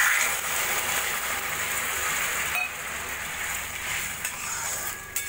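Water goes into mango chutney cooking in a pan over full flame, producing a continuous close hiss and bubbling sizzle with a few faint clinks near the end.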